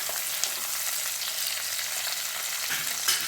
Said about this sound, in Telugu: పచ్చిమిర్చి వేసేసి కలిపేద్దాం.